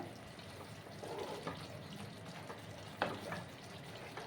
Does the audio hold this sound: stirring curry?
yes